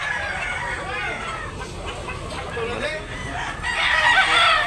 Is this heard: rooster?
yes